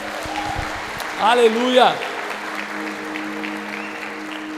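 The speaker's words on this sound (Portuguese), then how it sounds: "Se você crê, você pode aplaudir ao Senhor." A church congregation at a Portuguese-language convention service applauding, a steady wash of clapping under a voice, swelling briefly as a sung exclamation rises over it.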